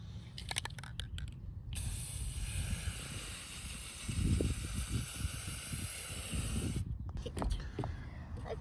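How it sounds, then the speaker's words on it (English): A steady spray-can hiss of black paint onto metal railroad spikes runs through most of the clip, with low rumbling handling noise and faint clatter underneath. "Going to start by spray painting them all black"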